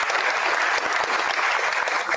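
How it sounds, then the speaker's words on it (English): An audience at a Scrabble championship final claps steadily, a dense, even patter of many hands lasting the whole moment without a break. "So, applause."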